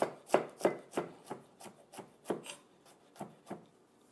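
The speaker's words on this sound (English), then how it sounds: "Some fine diced squash." A knife dices fresh local zucchini squash on a cutting board, sounding as a steady series of about a dozen crisp, close chops in an even rhythm with nothing else heard.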